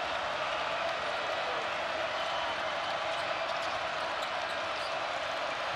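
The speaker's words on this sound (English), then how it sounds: "Here comes the crowd." A basketball arena crowd swells into a steady, broad roar of cheering that holds evenly throughout, with a commentator's voice running over it.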